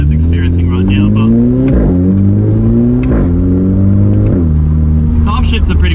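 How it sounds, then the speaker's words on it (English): Volkswagen Polo GTI 6C hot hatch engine, 2015, droning loudly as its DSG gearbox makes several slow downshifts, with pitch steps at each change while a voice talks over it throughout. "the downshifts are a little bit slow too, as experiencing right now"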